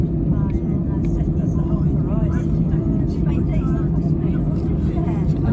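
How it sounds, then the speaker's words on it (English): An airplane makes a rolling takeoff on a runway, with a loud, steady, low engine roar filling the cabin. Muffled voices are heard under the rumble. "Going to be a rolling takeoff."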